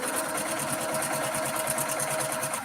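A sewing machine stitches pieces of quilting fabric with a steady, fast, even mechanical chatter that runs close and unbroken throughout, with no talking.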